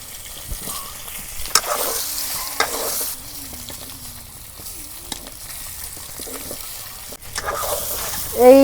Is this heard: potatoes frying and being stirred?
yes